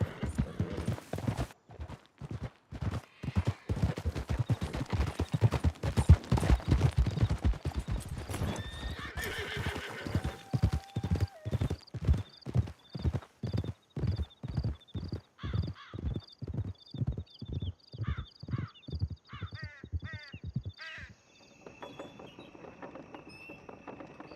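Horses galloping in Red Dead Redemption 2, a long, rapid run of loud hoofbeats with neighing and whinnying partway through, followed by gunshots and clattering game sounds near the end.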